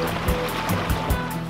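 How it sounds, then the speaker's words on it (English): Water along a shore, a steady close wash of waves with soft periodic surges roughly every fifth of a second, continuous and fairly loud with no talking. "I hear water."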